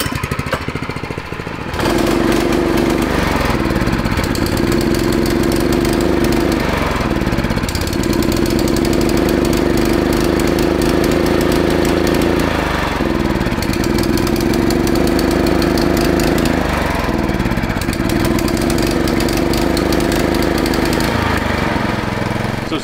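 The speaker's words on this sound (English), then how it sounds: "Sometimes you can rev up your engine and put the rag over the carburetor to suck out any trash in the carburetor." A small Honda clone go-kart engine with carburetor trouble revs loud and close, its rough buzzing drone rising and falling in repeated throttle bursts with brief dips between, no voices.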